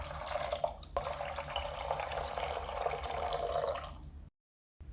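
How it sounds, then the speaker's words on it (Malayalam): About 700 ml of water poured into a pot to start a special herbal tea with jaggery and ginger: a steady close splashing stream for about four seconds, then a cut to silence and a faint return. "ഈ സ്പെഷ്യൽ ടീ തയ്യാറാക്കാണ്ട് 700 ml വെള്ളം ഒഴിക്കുന്നതാണ്,"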